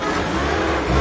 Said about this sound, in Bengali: এই যে ইঞ্জিনের সাউন্ডটা দেখছেন ইঞ্জিনের সাউন্ডটা